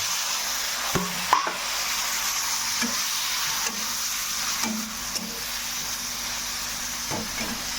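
Sliced bitter gourd fries in a hot pan with garlic tempering, a continuous close sizzle broken by a few scraping stirs and clanks of a spatula, no talk.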